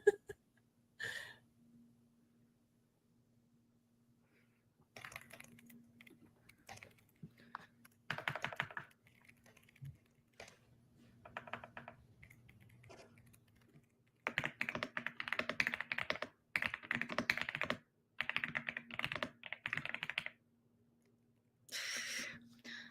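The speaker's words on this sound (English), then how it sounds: "I was like literally in the middle of typing up this sentence." Typing on a computer keyboard during a writing sprint: quiet, close clicking in irregular bursts and pauses, with denser rapid runs of keystrokes toward the end.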